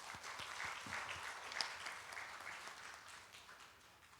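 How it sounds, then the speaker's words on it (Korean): During a Korean Sunday worship service, the congregation applauds with soft, distant clapping that stays quiet throughout and tapers off toward the end. "네, 박수 한번 보내겠습니다."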